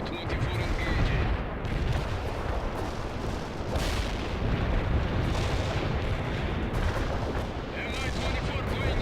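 In the World in Conflict video game, an MI-24 helicopter attacks with dense, continuous gunfire and heavy booming blasts over a rumbling battlefield.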